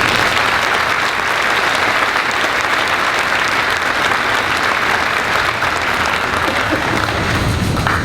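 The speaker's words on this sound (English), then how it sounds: "Please give all those on stage and our special guests a round of applause." Loud, dense applause from a large audience at the Wentworth Military Academy and College 2013 commencement, sustained evenly from start to finish.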